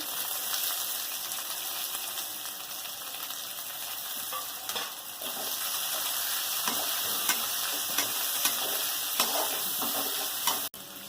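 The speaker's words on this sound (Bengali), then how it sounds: "এবার একটা বড় সাইজের পেঁয়াজ দিয়ে দিচ্ছি কেটে" Chopped onion frying with crushed garlic in hot oil, producing a dense, continuous sizzle that swells a little as stirring goes on, with occasional faint scrapes and a sharp knock near the end, close and without voices.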